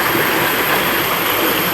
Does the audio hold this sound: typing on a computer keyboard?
no